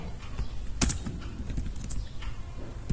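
Code is typed on a computer keyboard in quick, irregular bursts of soft key clicks, with one sharper keystroke, close and fairly quiet.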